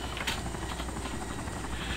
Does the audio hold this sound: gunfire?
no